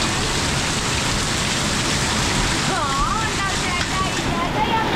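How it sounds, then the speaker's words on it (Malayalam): Heavy rain pours down in a steady, loud, unbroken hiss, with gusts of wind mixed in. "നല്ല സൂപ്പർ മഴ."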